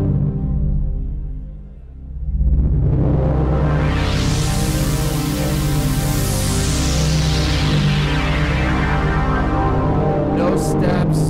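Smooth filter sweep on a Roland FA series workstation synth, a sustained chord whose brightness opens gradually from dark to fully bright and then closes again in one seamless, stepless arc, loud and continuous.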